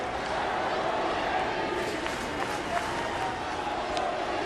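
A crowd at a Yankees–Blue Jays baseball game fills the stadium with a steady, dense roar of voices and scattered claps, while a broadcaster talks over it.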